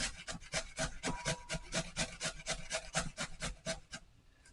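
Potatoes with the skin still on are rubbed against a hand grater for a hash brown: a steady run of rhythmic rasping strokes, close and clear, about three per second, trailing off at the end.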